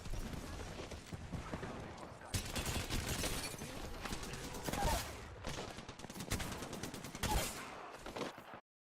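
Gunfire from Fuse in Apex Legends: rapid bursts of shots and explosive cracks in a loud, busy firefight, with talk mixed in.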